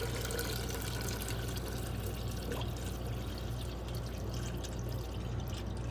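Beef bouillon broth made from powder and water is poured into an Instant Pot, a steady close splashing pour lasting several seconds.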